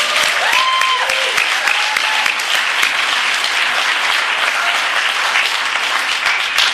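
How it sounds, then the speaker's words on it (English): An audience at a Narcotics Anonymous convention claps steadily for the convention committee, a dense, even applause with a brief whistle near the start. "I want to applaud the convention committee for the wonderful job that they did this weekend."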